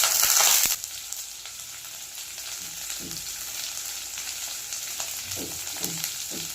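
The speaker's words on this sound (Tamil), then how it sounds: "இப்போ இதில் வெங்காயம் சேர்த்துக்கிறேன்" Onions tossed into a hot pan for beetroot rice set off a loud initial burst of sizzling that settles into a steady, moderate frying hiss, with occasional scrapes and clinks of a spoon stirring against the pan.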